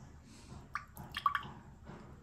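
Liquid tester drops falling into a sample of bottled table water during a pH test, giving a few soft, close drip and squish sounds in short succession over a faint room hiss.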